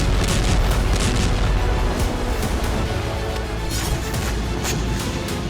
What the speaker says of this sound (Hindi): रूस के पर्म इलाके में भी जोरदार धमाका हुआ।